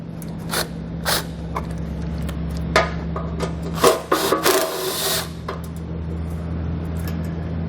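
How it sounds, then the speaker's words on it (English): Ratcheting and scraping from a 13mm socket wrench backing out bolts while a crossbar-style base plate is fitted to a 2014 Ford, with short bursts of clicking, metallic rasps and a steady low hum underneath. "Use a 13mm socket to get these out"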